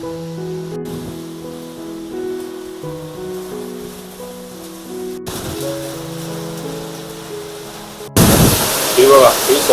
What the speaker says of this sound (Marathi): खतरनाक पाऊस पडतो आणि त्यासोबत आहे ना वारा पण इतका आहे ना बापरे